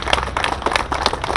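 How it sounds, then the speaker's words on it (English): Audience clapping at a golf course grand reopening ceremony, a brisk, moderately close patter of many hands keeping up steadily through the short stretch. "I'd like to thank each of them with a round of applause."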